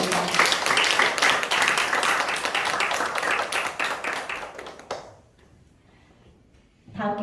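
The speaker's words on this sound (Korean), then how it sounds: "우리 하나님께 감사의 박수 올려드립니다" A church congregation at a Korean Sunday worship service gives dense, energetic applause that fills the room for about five seconds, then cuts off to near silence before a brief new swell.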